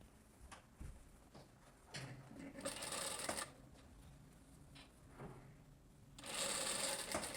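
A sewing machine stitches the armhole finishing seam of a blouse in short, close bursts of rapid whirring, pausing between runs and ending in a louder, longer stretch.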